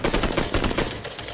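Rapid automatic gunfire in the PUBG video game on Xbox One rattles out as a dense, loud burst of shots, continuous and close, with no talk over it.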